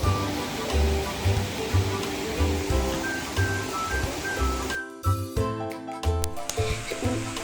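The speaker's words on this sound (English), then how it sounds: "I can hear the waterfall, and I can see the water running." A waterfall and running river water give a steady broad rush at moderate level, with a person talking over the water in the background.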